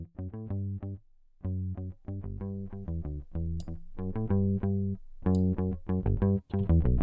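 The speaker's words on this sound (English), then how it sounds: "On the real bass, this is what it sounds like without any effects. It's a Scarby Rickenbacker." Unprocessed Rickenbacker electric bass playing a bouncing melodic line of short plucked notes, clean and fairly quiet, with brief gaps between phrases.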